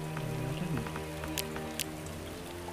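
Rain patters steadily in the video game Starbound, a soft continuous hiss of drops under layered ambient game music, with a few brief brighter splashes.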